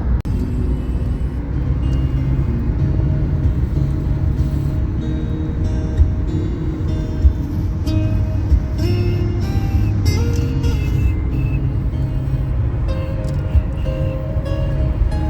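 Dense road traffic in Dubai rumbles steadily, a continuous low engine drone with occasional passing vehicles and small knocks, heard close and loud without voices.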